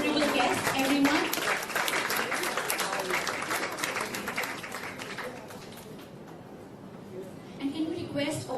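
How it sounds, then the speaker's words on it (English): Applause from an audience at a book launch for the novel The House That Spoke, a dense wash of many hands clapping that carries steadily for several seconds, then thins out and swells again near the end. "please, a huge applause for our wonderful author and for our honorable guests, everyone"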